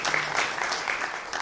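Theater audience applauding in a dense, steady wash of clapping that carries through the whole moment, fairly loud and filling the room, with no one speaking over it.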